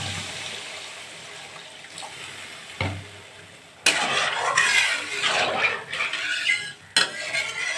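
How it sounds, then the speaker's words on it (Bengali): Water is poured into a cooking pot for a spicy Bengali fish curry, giving splashing and gurgling close by, with a clatter of the pot and stirring in between. "এবার আমি জল দিয়ে দেব।"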